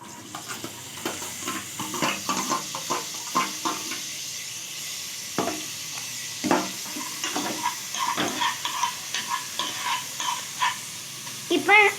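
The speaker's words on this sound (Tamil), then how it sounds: "நம்ம இதுக்கப்புறமா ஒரு 2 மீடியம் சைஸ் ஆனியன் போட போகிறோம்." Onions sizzling in a pan for chicken curry, stirred with a utensil that gives intermittent scraping clatters over a soft frying hiss, with a voice talking at times.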